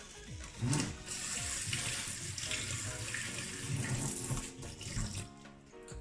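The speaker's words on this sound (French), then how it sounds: "Vous allez les rincer à l'eau claire." Clear tap water runs steadily into a sink as leftover kefir grains are rinsed, a continuous close splashing stream lasting several seconds with no voices.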